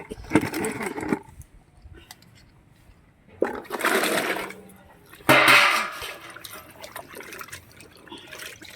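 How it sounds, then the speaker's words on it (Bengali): Cut mango pieces are washed in a bucket of water, heard as three separate bursts of splashing and sloshing separated by quieter pauses with light dripping and trickling. "এবার আমি বালতির জলে ভালো করে আমগুলোকে ধুয়ে নেব"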